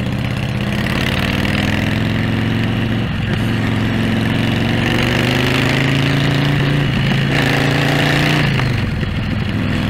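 A custom Harley-Davidson FL chopper with a 145 cubic inch motor runs loud and close, holding a deep, steady rumble with a few brief shifts in engine pitch as the bike rides along.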